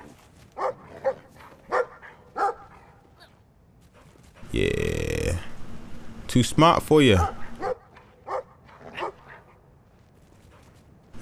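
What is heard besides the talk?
dogs barking in the video game Brothers: a Tale of Two Sons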